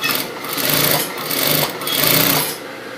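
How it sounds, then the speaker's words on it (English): A sewing machine runs steadily at close range in a continuous whirring, rattling drone that eases slightly between short stitching runs, with no voices over it. "start sewing."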